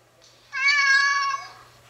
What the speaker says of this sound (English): which I don't know why it has a meow.